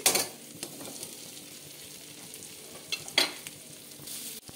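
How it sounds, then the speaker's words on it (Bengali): Spice paste fries with potatoes and a splash of water in a pan for a brinjal hilsa curry, giving a soft continuous sizzle broken by a few louder stirring scrapes and bursts, with no voices. "অল্প জল দিয়ে মশলাটা কষিয়ে নেব"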